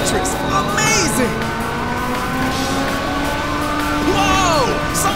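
Race cars fire nitrous boosts in Ridge Racer 6 on an Xbox Series X, with loud, sustained engine roar and rising, whistling whines that sweep up over the constant drone.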